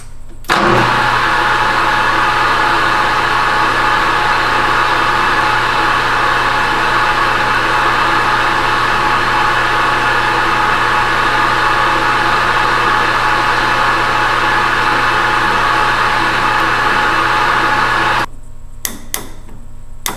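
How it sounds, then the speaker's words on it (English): A lathe cuts a small chamfer at the threaded end of a hammer handle, giving a loud, steady machining whine with a motor hum for about eighteen seconds, then stopping abruptly, followed by a few faint clicks. "Now we want to make a very small chamfer at the threaded end."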